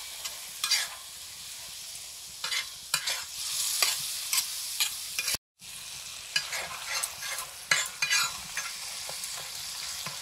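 Spice masala with turmeric and chili sizzles as it is stir-fried for egg curry, with loud, close frying and frequent spatula scrapes in an uneven rhythm, broken by one brief silent gap.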